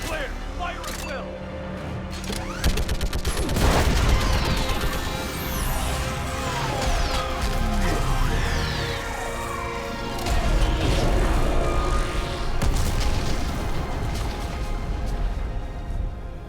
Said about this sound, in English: I need an orbital strike.